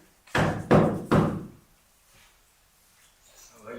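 Three firm, evenly spaced knocks on a door during an experimental theatre stage production, loud and near, followed by quiet room tone with no talking.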